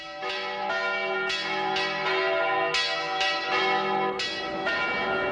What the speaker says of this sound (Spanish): mientras las campanas repican al aire luminoso de la mañana